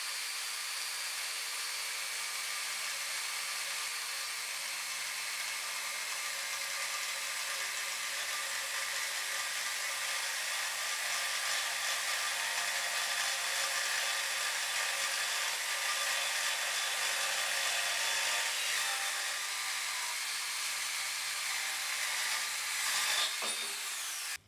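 An Evolution Rage twin-blade saw cuts through steel angle iron with a loud, sustained high-pitched grinding screech, close and steady for the whole cut before stopping abruptly.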